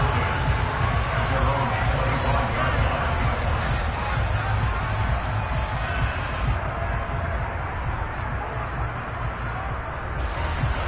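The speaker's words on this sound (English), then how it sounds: "And the home crowd loves it." A home crowd cheers in the Madden 23 football video game, a dense stadium roar that carries on continuously for the whole stretch with a commentator's voice talking over it.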